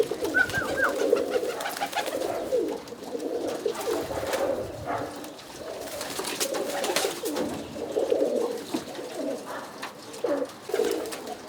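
Roller pigeons cooing repeatedly in soft, throaty phrases, with occasional wing flaps nearby and outdoor background noise.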